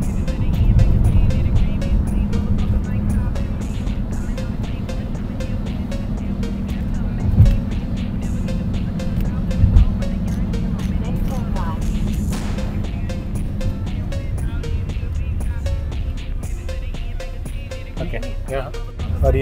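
A car cruises slowly through a 60 km/h zone on an Australian road, its low steady engine and tyre hum running under ongoing talk inside the vehicle.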